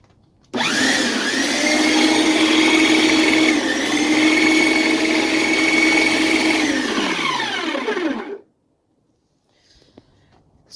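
A Snow Joe 13-inch 10A electric snow shovel motor whirs loudly up to speed for about eight seconds of steady high-pitched spinning, then winds down into quiet.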